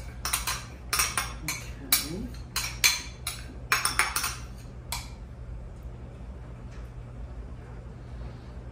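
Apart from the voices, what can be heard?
spoon clinking against dishes while baking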